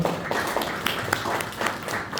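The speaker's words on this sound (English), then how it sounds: "Can you have a big round of applause for Vinta?" A school summit audience claps for a panel speaker, producing a dense, close wash of hand claps with sharp individual strikes throughout a short burst.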